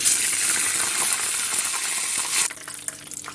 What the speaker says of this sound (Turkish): Böreklerim kızardı. Hemen çeviriyorum.